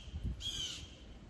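A crow at a Panama City Beach bayside spot gives one short, raspy caw, fairly near but not loud, over a low outdoor rumble.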